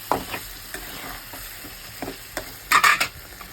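Egg curry mixture is stirred in a pan, with a spoon scraping and clinking against the metal at irregular intervals over a soft sizzle, ending in a brief louder flurry of scraping.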